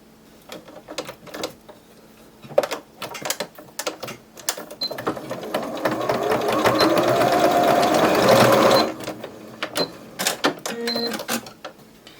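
A sewing machine runs in a steady, rapid stitching burst through a small fabric toy bunny's seam, preceded and followed by clicks and handling of the machine and cloth.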